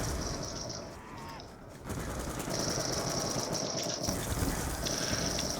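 A cannon fires repeatedly in Call of Duty Black Ops II Zombies, rapid bursts of gunfire with a brief pause in the middle, over a high ringing tone and game background noise.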